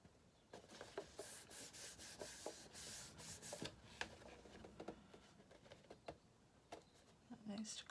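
A folded card gift box is burnished by hand, giving a series of soft, close rubbing and scraping strokes in irregular bursts, fairly quiet overall.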